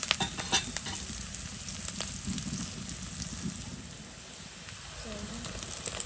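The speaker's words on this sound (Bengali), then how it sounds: "ভালো করে ভাইজে নেব।" Chopped onion and chilies frying in a pan, a steady dense sizzle with occasional crackles and stirring scrapes, close and continuous with no talking.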